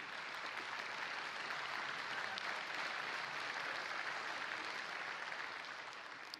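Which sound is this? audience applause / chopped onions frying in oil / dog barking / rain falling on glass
audience applause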